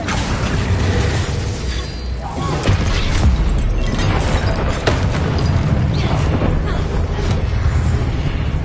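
A spell cast in the Hogwarts Legacy video game bursts as a loud fiery whoosh and boom, with dense crashing game effects and music throughout.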